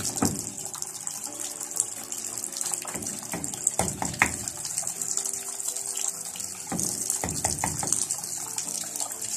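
Water gushes steadily into a Samsung WA60H4200SW top-load washing machine holding clothes and detergent powder, a loud, close, continuous pouring and splashing with churning bursts throughout.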